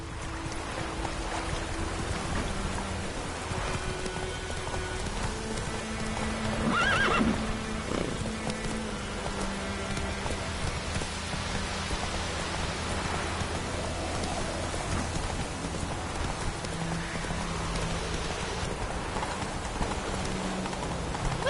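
Roach the horse in The Witcher 3 whinnies clearly mid-scene while hooves clip-clop steadily beneath, over a constant ambient bed of rain or water noise, no voices.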